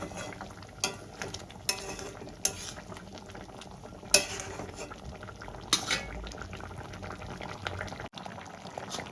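Rohu fish curry gravy bubbles in a pan, a soft, continuous simmering hiss broken by occasional clinks and scrapes of a utensil against the pan, close and without talk.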